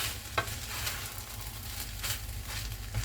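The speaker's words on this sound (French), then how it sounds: "Quand vous voyez que ça commence à griller, vous allez l'entendre." Soft crackling sizzle of rice grains toasting in a hot pan, with occasional scraping stirs, steady and close.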